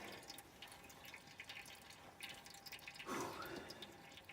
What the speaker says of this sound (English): let your filter drip.